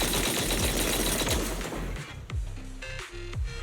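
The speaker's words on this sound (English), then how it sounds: "That was the sound of a heavy cannon?" Heavy cannon fire in the video game Zenless Zone Zero booms in a dense, rapid barrage, then thins into a few separate blasts with ringing tones between them.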